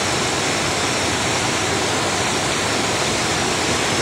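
A river in Rolpa rushes steadily as people wade upstream through it, a loud, unbroken broadband wash of flowing water close by with no pauses and no talking.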